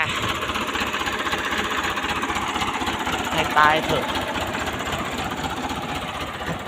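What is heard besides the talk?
Ford 6640 tractor engine running while stuck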